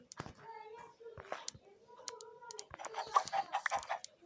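A chicken clucks in a Minecraft survival world, several short close clucks and squawks in irregular bursts, mixed with someone speaking softly and game noises.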